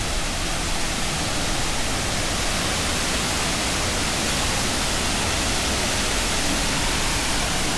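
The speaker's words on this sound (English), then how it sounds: "Just stunning view of a fantastic waterfall." A waterfall in a Sri Lankan rainforest roars as a constant broadband rush of falling water, dense and unbroken throughout, with no voices.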